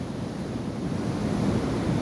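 Pacific Ocean surf breaking along a coast near Cantilan, a steady low roar of waves with wind buffeting the microphone, continuous and fairly loud.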